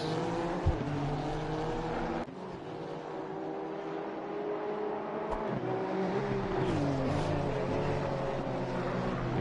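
A GT race car engine in Assetto Corsa Competizione, from a Honda cup race, drones steadily with shifting revs and a brief gear-change dip, loud and close with no talk over it.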